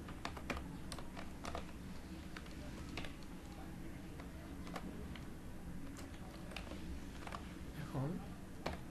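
Quiet, steady tapping of keys on a computer keyboard as a name is typed, a light irregular clatter of clicks with faint room hum underneath.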